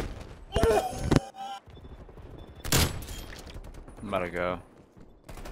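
Sniper gunshots in Black Ops Cold War multiplayer, a few sharp loud cracks spaced apart amid game noise, with a player talking excitedly in between.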